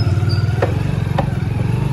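A motorcycle rides through a village lane, its engine a steady, pulsing low thrum up close, with a couple of faint clicks or clatters over the running motor.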